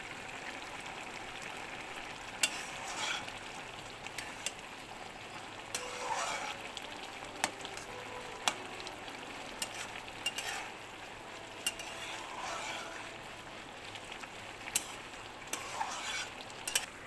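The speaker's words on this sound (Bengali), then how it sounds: "প্রথম দিয়ে দিলাম তেল, তারপরে দুটো শুকনো লঙ্কা দিলাম।" Dried red chillies fry in hot oil in a pan for a Bengali prawn and pepul greens dish, giving a faint, steady sizzle with scattered utensil clicks and stirring scrapes, with no talking.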